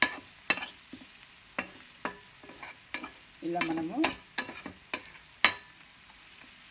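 Onions that have softened while frying in a pan give a steady low sizzle, broken by repeated sharp spatula scrapes and taps against the pan in an uneven rhythm; a voice says a couple of words briefly.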